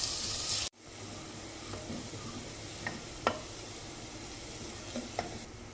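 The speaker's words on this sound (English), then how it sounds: "Stir-fry the onion until it turns golden brown" Finely chopped onions stir-frying in a pan give a faint, steady sizzle, with a few soft scrapes of stirring after a short, louder burst at the start.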